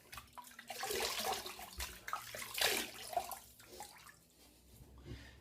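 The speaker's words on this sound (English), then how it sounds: "Just going to wet the face." Water splashed by hand onto a face at a sink, wetting six days of stubble before a double-edge razor shave, close irregular splashes and drips with running water, no speech.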